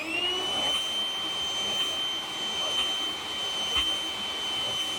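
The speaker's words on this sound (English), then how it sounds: "you can vacuum" Steady whine of a vacuum cleaner cleaning a filter sleeve during maintenance on a Sabre unit, with a constant high tone over a soft airy hiss at moderate distance.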